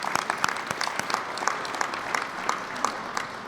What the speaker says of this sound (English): I want to give them a round of applause as well, too.